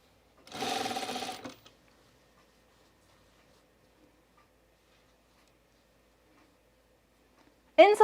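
A sewing machine runs a short stitching burst of about a second, fairly close and loud, then stops into near silence before a brief sharp sound at the very end.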